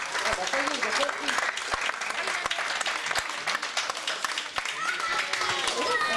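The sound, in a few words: audience applause at a show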